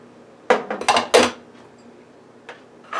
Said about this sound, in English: I'm going to put the onions in, the mushrooms